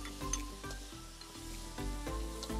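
Tomatoes and onion dropped into hot coconut oil in a pan, producing a quiet, steady sizzle with small stirring noises and a tonal hum in the background.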